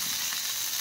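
Ridge gourd pieces fry in hot mustard oil with a steady, close hissing sizzle that stays even across the short moment, with no talk.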